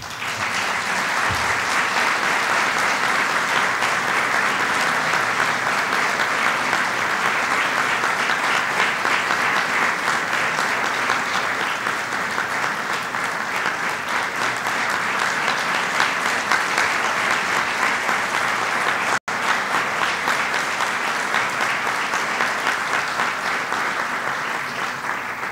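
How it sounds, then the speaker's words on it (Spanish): Sustained applause at a certificate ceremony honoring a distinguished administrative employee, a steady, even roar of many clapping hands that holds without pause for about twenty-five seconds. "Un aplauso, por favor."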